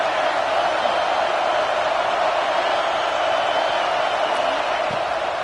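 A large stadium crowd roars steadily behind the defense on third down at an Oregon at Texas football game, a dense, sustained wall of cheering that holds constant throughout.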